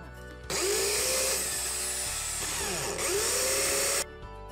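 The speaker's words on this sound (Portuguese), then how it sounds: "Aí eu venho com essa broca aqui, é Foster." A power drill with a Forstner bit bores into wood for a rustic farm-decor clock. It makes a loud, close whine for about three and a half seconds, with pitch dips as the bit bites, and then cuts off.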